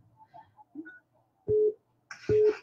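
A telephone busy tone during a phone call: two loud steady beeps after some faint chatter in the background, near and clear.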